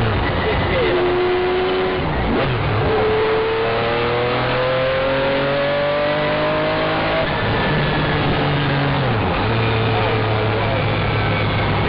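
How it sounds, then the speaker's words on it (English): A McLaren F1 GTR race car engine roars loudly through the gears, pitch climbing steadily, then dropping with each shift before rising again, heard from inside over constant wind and road noise. "I've never driven anything like this, nothing remotely like this."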